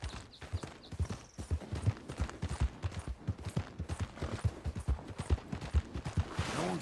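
A horse's hooves clip-clop on ice in a steady, close, rhythmic series of sharp knocks that runs throughout.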